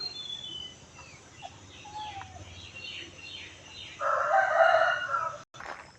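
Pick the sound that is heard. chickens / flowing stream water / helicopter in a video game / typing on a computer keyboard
chickens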